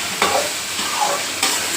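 Eggplant and tomato sauté in hot oil, a steady sizzle broken by a few scraping stirs of the pan, close and alone.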